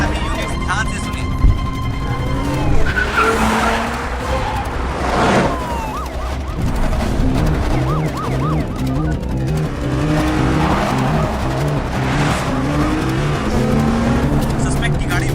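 A suspect's car speeding during a police chase on a highway, engine revving and roaring with tire squeals and passing whooshes, loud and close amid dramatic music and a dubbed voice talking over it.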